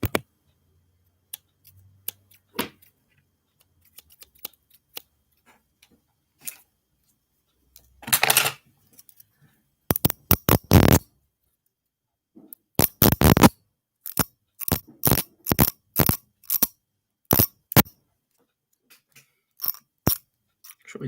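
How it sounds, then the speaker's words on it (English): Scissors and a broken comb handled close to the mic for ASMR, with sparse snips and clicks at first, then bursts of sharp crisp scraping and clicking, separated by near silence. "I wonder if the scissors work."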